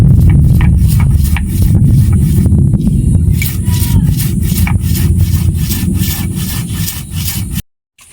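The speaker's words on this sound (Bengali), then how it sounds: "এবার মশলাটা আমি শুকনো পাটায় গুঁড়ো করে নেব।" Dry-roasted coriander and cumin ground by hand on a flat stone grinding slab (pata): loud, close, rhythmic rubbing strokes of stone on stone that stop abruptly near the end.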